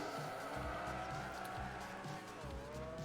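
A race car in Project Gotham Racing 3, a sustained high engine drone with steady harmonics and a brief pitch dip as it shifts, faint tire noise underneath, droning on without pause.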